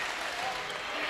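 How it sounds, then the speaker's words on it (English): High-school basketball crowd, the Spartan cheer block from CHS trading chants with the Rushville cheer block late in a game, heard as a steady, dense wash of cheering and shouting voices without a break. "the Spartan cheer block giving their final words to the Rushville cheer block"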